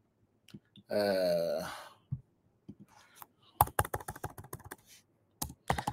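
A person types on a computer keyboard, clustered clicks and keystrokes coming in quick bursts toward the end, after a sustained tonal sound and brief noises near the start.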